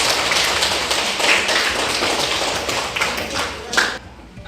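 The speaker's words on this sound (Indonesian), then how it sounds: "Tepuk tangan buat semuanya." Children in a primary school classroom clap their hands together briefly, a close, dense patter of claps fading out after about four seconds.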